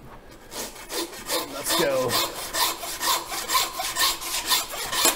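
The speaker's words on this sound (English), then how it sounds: "We grab our handsaw." A handsaw cuts through a beef knuckle bone during butchery of a full-blooded American Tajima Wagyu cow, giving steady rhythmic rasping strokes at close range, with a brief spoken remark at the start.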